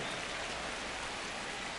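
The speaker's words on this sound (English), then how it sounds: "This rain is not letting up." Steady rain falling during a baseball game in MLB The Show 25, a dense, even hiss of drops spread across the whole clip, loud and unbroken with no talk over it.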